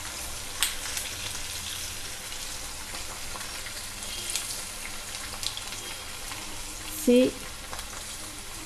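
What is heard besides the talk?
garlic cloves frying in oil for amla pickle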